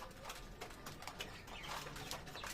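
Pet pigeons pecking grit coo faintly and softly, with light repeated calls and rustling in a quiet loft.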